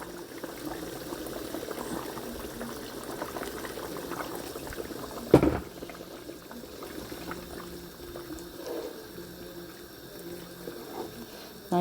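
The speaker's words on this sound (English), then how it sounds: "So add boiling water." Boiling water poured into a pot of simmering red kidney bean curry, a steady bubbling and splashing wash with one sharp clunk midway, then quieter continued bubbling.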